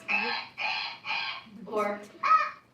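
A girl imitates a goose with a string of five nasal honking calls, each short and evenly spaced, close and fairly loud.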